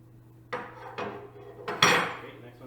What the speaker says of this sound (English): Spanner wrench.